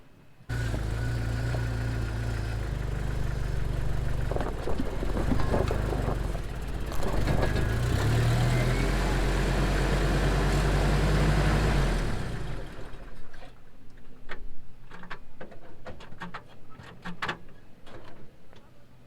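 A Jeep engine revs loudly and steadily while working free off-road, a deep sustained roar for about twelve seconds, then drops away to quieter idling with scattered clicks and knocks.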